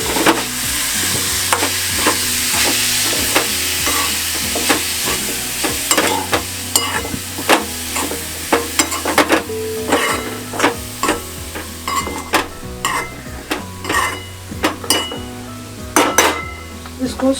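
Vegetables stirred in hot oil in a pan for veg Frankie filling, with a steady sizzle under repeated clinks and scrapes of a spoon against the pan, close and fairly loud, no talking.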